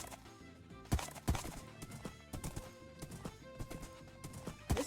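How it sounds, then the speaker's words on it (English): A horse gallops in Minecraft with quick, uneven hoof clip-clops thudding close by, several strikes each second, alongside game sounds and no talk. "This horse be fast."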